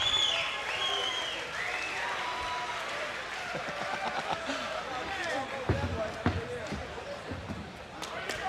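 A UFC 19 arena crowd roars and claps for fan-favorite fighter Maurice Smith, a dense, sustained din with sharp whistles and thumps, while an announcer's voice carries over the noise.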